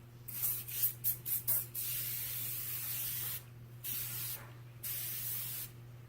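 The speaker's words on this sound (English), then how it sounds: "I'm still going strong with my Japanese makeup setting spray, the aerosol one." Japanese aerosol makeup setting spray hisses in five quick short bursts, then in several longer sustained sprays, close and loud against a low steady hum.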